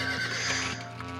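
A Lippizaner horse whinnies in Star Stable Online, a loud, close, quavering neigh that sustains its trembling pitch for about a second before trailing off.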